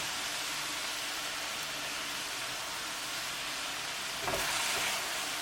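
Mushrooms fry in a pan with a tadka, giving off a steady, close hiss of sizzling, with a brief stirring scrape near the end.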